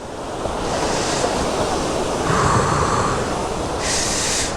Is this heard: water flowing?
yes